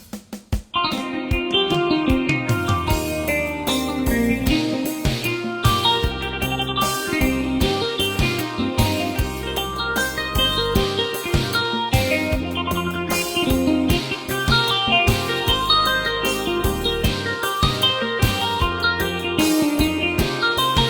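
A Yamaha PSR-640 electronic keyboard plays a steady, dense Isan mahori folk dance groove with driving percussion and bright melodic lines, loud and continuous throughout.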